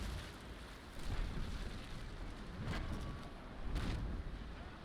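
Ship cannons firing in the naval battle game Naval Action: a few heavy booming blasts spaced about a second apart rise over a constant roar of sea and wind, with no talking.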